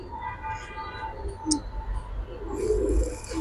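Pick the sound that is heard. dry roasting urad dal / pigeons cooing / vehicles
pigeons cooing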